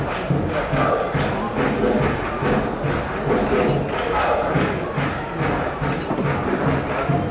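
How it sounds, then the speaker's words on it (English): A crowd at a college baseball game in Bakersfield makes a steady roar of voices with rhythmic thumps and stomps, dense and continuous throughout. "Crowd here at Bakersfield getting into the action, making some noise."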